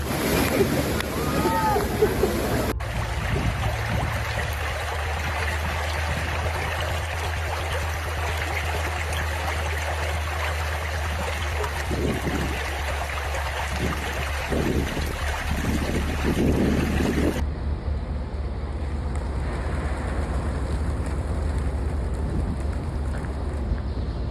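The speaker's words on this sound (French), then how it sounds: "Les vagues géantes déferlant dans les rues d'une ville côtière en France en raison de l'impact de la tempête le 19 octobre." Giant storm waves surge through the streets of a French coastal town, making a continuous loud roaring wash of churning water and wind that shifts abruptly in tone partway through.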